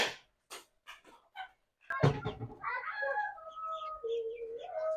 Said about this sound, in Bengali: এখন খামারে বেশ অনেকগুলো মুরগি হয়েছে